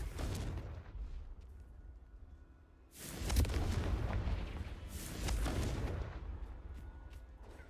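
Blasts from the Confringo spell in Hogwarts Legacy, a deep booming explosion that rolls over several seconds with a second loud burst midway and lingering rumble.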